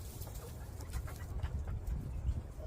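Hens in a snowy homestead coop give soft, scattered clucks and murmurs, fairly close, over low background rumble.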